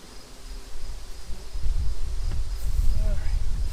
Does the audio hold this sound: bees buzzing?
yes